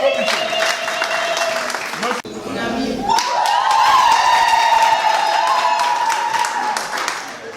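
Guests at a wedding ceremony break into applause, dense clapping mixed with cheering and a raised voice, briefly dipping before swelling again with voices over it.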